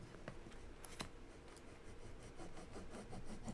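Paper being rubbed down by hand to stick it into a refillable folio notebook gives a soft, steady brushing and rasping, with a few sharper scrapes near the start.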